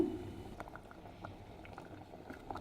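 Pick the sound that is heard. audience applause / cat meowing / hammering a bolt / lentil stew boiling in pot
lentil stew boiling in pot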